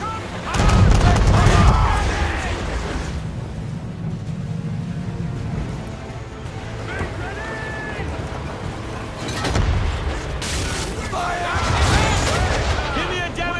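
Cannon fire during a naval battle in Assassin's Creed 3, heavy booming volleys at the start and again near the end, with rumbling echoes, shouted voices and battle ambience filling the gaps between blasts.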